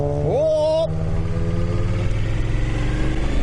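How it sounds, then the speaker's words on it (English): A warming-up motorbike engine idles close by with a steady, throaty drone and a quick rising rev near the start, then settles into an even, loud rumble. "obviously warm up the motorbike"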